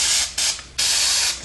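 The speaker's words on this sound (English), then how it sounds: "Okay, this is brake cleaner." Brake cleaner sprays from an aerosol can onto the end of a steering gearbox axle shaft during a 1953–1962 Corvette rebuild, two loud close hissing bursts split by a short pause.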